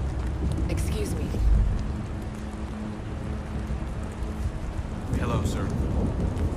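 A heavy thunderstorm on a Far Cry 5 custom map on PS4 gives steady, dense rain with a low rumble of thunder swelling early on. The storm sounds near and continuous throughout.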